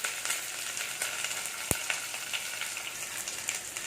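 Onions fry in hot coconut oil on a stove for a cabbage and chana dal curry. A dense, steady crackling sizzle runs throughout with one sharp pop midway, close and moderately loud, with no talking.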